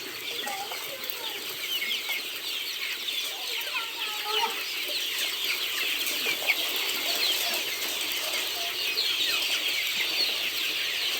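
A flock of native village chickens mills about a farm shed, clucking in a busy, unbroken chorus of overlapping short calls, with occasional faint wing rustles beneath.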